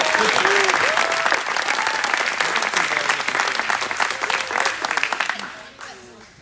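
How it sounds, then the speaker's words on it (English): Loud, enthusiastic applause from a large audience at a men's NCAA gymnastics meet fills the space with continuous clapping, then quickly dies down near the end. "Let's give a round of applause for Ethan."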